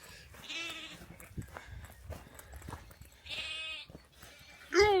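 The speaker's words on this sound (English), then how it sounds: "We'll have to get past those little lambs, won't we?" Lambs bleating beside a countryside walking path near Pannal and Weeton, three clear bleats spaced a few seconds apart, the last one loudest and closest, over soft outdoor background noise.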